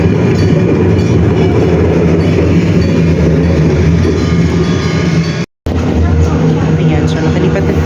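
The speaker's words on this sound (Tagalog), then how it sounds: "So, nakalipat na tayo sa isang train sa may Randen." Interior of a Randen train rolling through Kyoto, Japan, a steady loud rumble and rattle of the railcar throughout with a brief cut near the end, and a voice talking over it.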